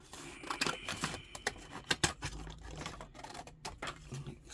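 Scissors snipping through paper while trimming the edges of a handmade folio journal, a run of quiet close crisp cuts and rustles.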